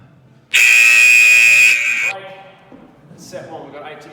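A loud, harsh electronic buzzer from a workout interval timer blares for about a second and a half, then cuts off, leaving quieter tones and murmuring behind it.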